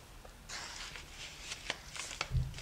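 A square of origami paper is flipped over while a heart is folded, giving soft crisp rustles and a few sharp papery flicks and taps close by.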